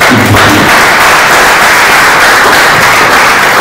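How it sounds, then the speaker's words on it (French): A festival audience bursts into loud, dense applause for an honored guest, a continuous roar of clapping that fills the space from start to finish. "Si on peut applaudir l'honorable"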